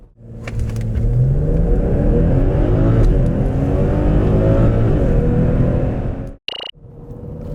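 A 2021 BMW 640i xDrive GT accelerates hard, its engine a loud, close, rising roar that sweeps upward in pitch through gears before cutting off abruptly near the end.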